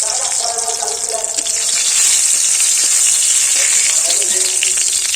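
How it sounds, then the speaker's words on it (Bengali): Whole red chilies and bay leaves fry in oil in a kadai, giving a loud, continuous, close crackling sizzle throughout. "কড়াতে তেল দিয়েছি গোটা লঙ্কা দেব তেজপাতা দেবো"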